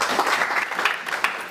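Audience applause at a formal ceremony for the launch of a book on customary entities in the DRC, a dense steady clatter of many hands clapping for a short stretch.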